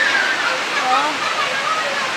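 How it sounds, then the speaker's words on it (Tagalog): Floodwater rushes and pours into a house during a typhoon, a dense continuous roar of splashing water filling the space, close and loud, with frightened voices speaking over it. "Pasok ng tubig"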